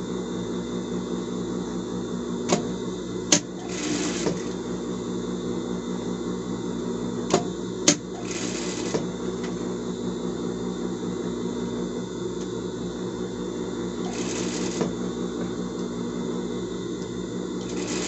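A sewing machine stitches in a steady, close motor drone that lasts throughout, with a few sharp clicks and short hissing bursts at intervals. No one speaks.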